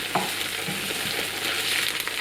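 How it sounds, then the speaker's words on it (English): Ginger paste and minced garlic frying in a pan for a soup, a steady close sizzle with soft stirring scrapes, continuous and without speech. "Now we add the ginger paste and the minced garlic and cook those for a minute."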